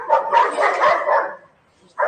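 A dog, likely a neighbour's, barks in a quick run of loud, close yaps and woofs, then falls quiet before one more bark starts.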